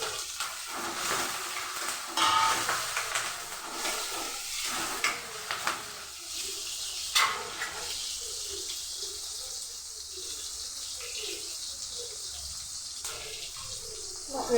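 Two tomatoes sizzle as they are sautéed in a pan for okra curry, a steady close frying hiss with occasional stirring scrapes and light clatter.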